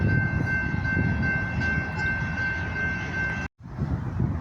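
A freight train with locomotives and DPUs rumbles past close by, a dense steady roar with a sustained high tone, cutting off abruptly before a brief quieter tail.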